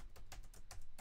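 A few quick keystrokes on a computer keyboard, four or five soft close clicks in about a second, faint against a low background hum.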